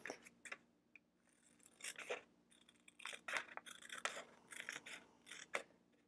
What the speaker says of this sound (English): I'm just cutting it out with my little embroidery scissors here